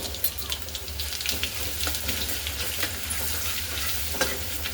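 Garlic cloves fry in hot oil with mustard seeds and cumin, giving a continuous close sizzle with a low steady rumble underneath and occasional light stirring clinks.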